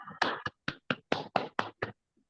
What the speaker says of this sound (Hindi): सभी को साथी एक बार माइक ऑन करके जोरदार ताली से वेलकम करेंगे